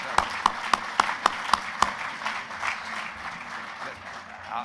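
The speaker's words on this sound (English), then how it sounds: "And let's just give you a round of applause." Applause from an audience honoring former university regents at a chancellor announcement event, opening with several sharp, evenly spaced claps that blend into a softer, diffuse patter of clapping fading out over a few seconds.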